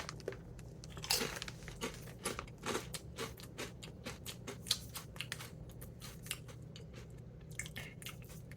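Ketchup and spicy mustard Doritos crunched and chewed close to the mouth, a series of sharp crisp bites followed by irregular crackly chewing, fairly quiet.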